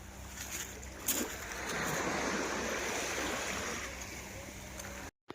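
Sea waves washing onto a beach on a hot summer holiday, a soft continuous surf wash that swells in the middle and then fades, faint and fairly distant, with a brief bump near the start and a sudden cutoff at the end.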